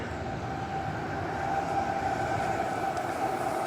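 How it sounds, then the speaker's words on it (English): A steady rumble and hum of an electric train rolling past nearby at Armadale Station, with a faint whine above the continuous low roar throughout. "Train."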